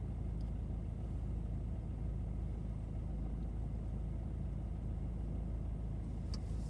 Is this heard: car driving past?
yes